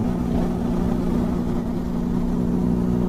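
A motorcycle fitted with a changed aftermarket silencer runs close by, a steady low rumbling engine drone with no clear revs, holding constant throughout.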